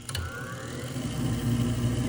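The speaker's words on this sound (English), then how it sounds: "So the way that we make it better is we use a sani grinder." A sani grinder hums steadily while smoothing a 3D-printed orthotic, a continuous close motor drone that swells slightly louder toward the end, with no voices.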